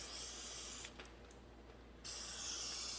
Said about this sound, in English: and blow it off with some compressed air.